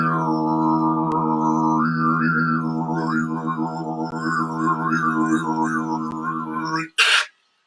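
A beatboxer's voice imitates a didgeridoo, a long Australian woodwind, with a steady low droning buzz and wavering overtones that carries on for about seven seconds, followed by a brief breathy burst at the end.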